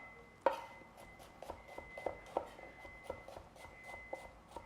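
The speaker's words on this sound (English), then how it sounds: "So I'm gonna julienne the onion real quick" Quiet, steady knife strokes julienning an onion on a cutting board, a series of regular tapping chops about every third of a second, one sharper knock at the start, no talk.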